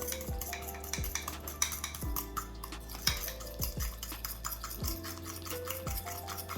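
A utensil stirs a carbonara egg and spaghetti mixture in a bowl, with repeated scraping strokes and light clinks against the dish, close and fairly quiet with no talking.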